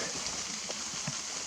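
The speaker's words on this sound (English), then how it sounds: "you can hear all that rain sound is from the wind blowing the trees" Soft, steady patter of rain dripping from trees with a hiss of wind blowing through them in the background, a few heavier drops landing nearby.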